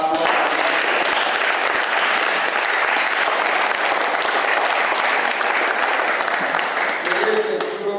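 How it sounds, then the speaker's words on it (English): A crowd applauds steadily at a congressional briefing, with loud, dense clapping that holds for about eight seconds and fades slightly at the end. "can we give a hand of applause?"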